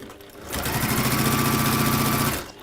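A sewing machine stitches across the top of a piece of fabric in one continuous, close, whirring burst of about two seconds, starting and stopping sharply.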